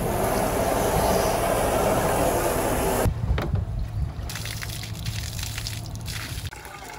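Steady broadband rush of water running from a hose, loud and close, then a shift to a thinner, splashier flow partway through.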